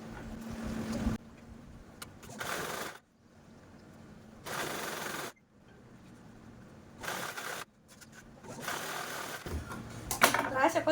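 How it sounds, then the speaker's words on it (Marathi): A sewing machine stitches a bag belt in several short runs of fast, whirring mechanical chatter, separated by quiet pauses and small handling clicks. "आता दुसरा पण बेल्ट मी सेम याच पद्धतीने स्टिच करून घेते"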